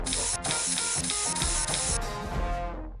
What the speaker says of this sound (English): You spray it.